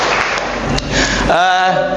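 A class of twelfth-grade accounting students claps together in a short burst of close applause, and a voice then speaks as the clapping stops.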